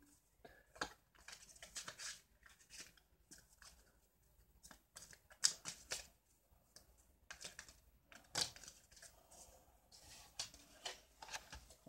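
Cardfight Vanguard trading cards being shuffled by hand at a table, heard as quiet, irregular bursts of riffling and soft card taps spread across the stretch, with no voices.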